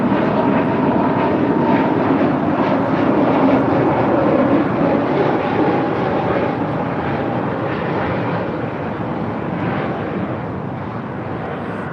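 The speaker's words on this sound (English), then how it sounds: "That is Spirit Airlines 965 departing to Detroit on an A320 Neo" Engines roar loud and steady as a Spirit Airlines Airbus A320neo departs, the noise holding for the full stretch before easing slightly toward the end, with no voices over it.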